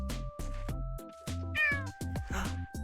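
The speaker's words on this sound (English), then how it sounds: "Meow to the microphone, cat." A cat asking for canned food meows repeatedly up close, a string of loud, insistent calls with short pauses between them.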